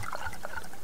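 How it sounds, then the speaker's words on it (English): Water trickles and pours into a container in the survival video game Subsistence, a brief liquid gurgle heard alone. "Let's get your water topped off."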